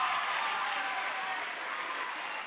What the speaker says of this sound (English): Can we give one more round of applause for Ash Day and Skimble Shanks the Railway C